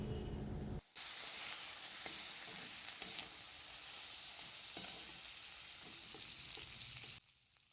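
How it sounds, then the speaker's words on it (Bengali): Vegetables fry with a little ginger-chili paste for a low-oil fish curry, a steady, fairly soft sizzle with scraping stirs that starts abruptly and cuts off near the end, no talking. "আর সামান্য একটু আদা লঙ্কা বাটা ভালো করে সবজিগুলো ভেজে নেওয়া হবে"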